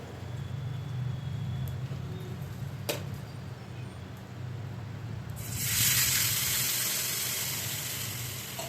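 Water poured into a hot tempering of curry leaves and green chillies for dhokla sets off a loud, sustained hissing sizzle halfway through, after quieter pan noise.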